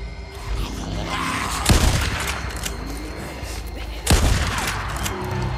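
Two loud, close shotgun blasts from the video game Days Gone, a few seconds apart, each a sharp boom with a ringing tail over a steady game ambience.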